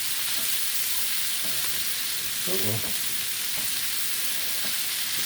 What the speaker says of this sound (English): We got the ghee combining with the yummy sausage juices.